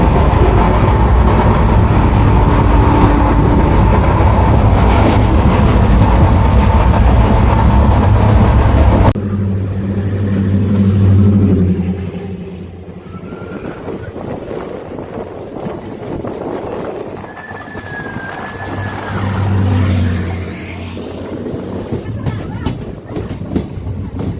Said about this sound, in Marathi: एक वाजून सदोतीस मिनिटांनी वठार रेल्वे स्टेशन वरून आपली ट्रेन निघालेली आहे